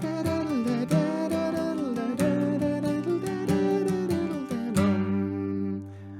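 Guitar strumming three big ringing chords as Irish jig backing, a steady run of bright strokes that holds for most of the passage before the last chord rings out and fades.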